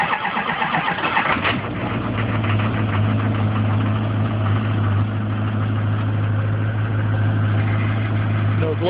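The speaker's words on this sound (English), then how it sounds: "The truck is cold, has not been started all day, actually for a couple days, and one glow plug cycle." A 2001 diesel truck, cold after sitting for days in freezing weather, cranks briefly then catches and settles into a steady, rumbling idle. The engine is close and continuous, and a voice is faintly present in the background.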